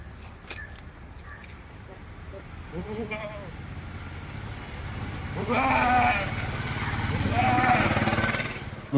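A goat three and a half months pregnant, offered for sale near Manjeri, bleats in several drawn-out, wavering calls, the loudest two coming close together near the end, over steady background noise and faint voices.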